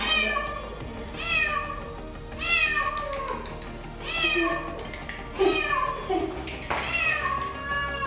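A cat with an injured leg meows repeatedly, about six drawn-out, rising-and-falling calls spread across the clip, close and clear against a quiet room.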